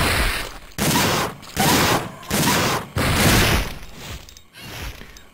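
Loud bursts of rapid gunfire in the video game Dino Crisis 2 come in repeated volleys, separated by short silent gaps, with a booming, crackling texture.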